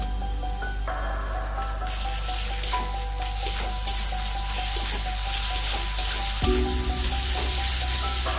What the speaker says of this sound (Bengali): এর মধ্যে আদা রসুনের পেস্টটা দিয়ে দেবো